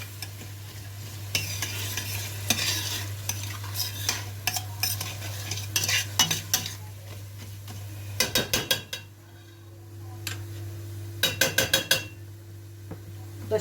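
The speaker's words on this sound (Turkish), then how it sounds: "Şöyle önce şu onları kavurayım şöyle güzel yine." Turnip greens sautéing in oil with salt and tomato paste, a low steady sizzle under repeated metal clinks and scrapes of a spoon against the pan, with bursts of rapid tapping, no talking.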